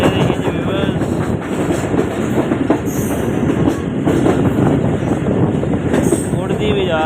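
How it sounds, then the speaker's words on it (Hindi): A fast passenger train led by locomotive 101UP on the Lahore to Rawalpindi run gives off a constant loud rumble with rhythmic wheel clatter and faint squeals, and a voice talks over it. "उड़ती भी जा रही है, उड़ती भी जा रही है ट्रेन।"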